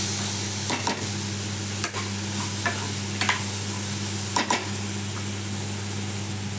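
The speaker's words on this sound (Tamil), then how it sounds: "எண்ணெயில் பாவக்காய் நல்லா வதங்கும் போது அந்த கசப்பெல்லாம் எடுத்துரும்." Bitter gourd sautéing in hot oil in a pan gives a steady, soft sizzle, broken by several sharp scrapes and clinks of a spoon stirring against the pan, with a constant low hum underneath and no talking.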